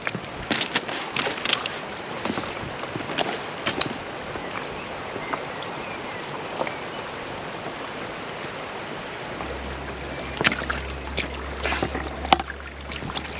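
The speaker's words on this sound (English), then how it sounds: "the sluice is running a treat, really. Got a nice V. It's not perfect, but it's got a good flow." Water runs through a gold panning sluice box outdoors in the UK, a steady close rushing and trickling flow with scattered splashes and knocks throughout.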